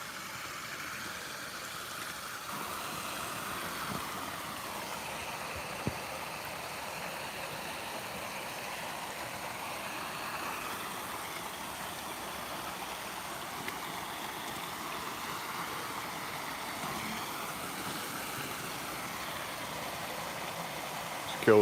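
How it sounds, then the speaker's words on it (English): A steady, soft rush of a stream and waterfall heard on a morning walk, a continuous broadband wash that stays fairly quiet and even throughout. "I like the waterfall up here though, past this bridge up here."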